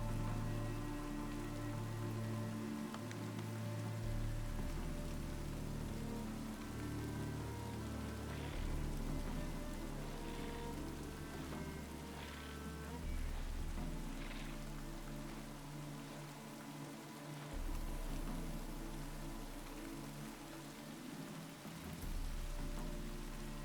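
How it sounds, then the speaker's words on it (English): Steady rain in the video game The Witcher 3: The Wild Hunt, a soft continuous patter under a low ambient hum and faint game music, with no voices. "Let's listen to the rain for a bit"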